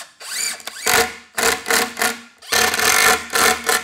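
A power drill drives screws without pre-drilling into good-quality plywood while a frameless upper cabinet is assembled, giving three close, loud whirring bursts, each about a second long with short gaps between them.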